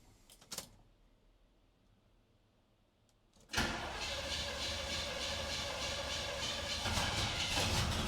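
Squarebody truck engine on propane, a brief click and quiet idle stretch, then a sudden loud, steady engine roar that holds to the end.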